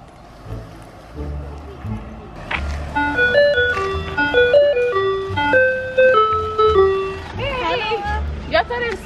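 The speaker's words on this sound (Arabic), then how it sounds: "بحب وقت تجي سيارة البوزة." Ice cream truck arriving with its bright, tinkling melodic jingle playing a run of notes, fairly close and loud, while voices talk and chatter around it.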